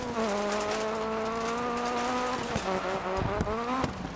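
Rally car in the video game Dirt Rally skidding on gravel, a loud, steady engine drone holding pitch and then dipping, with crunchy gravel scrabble and sharp clicks toward the end.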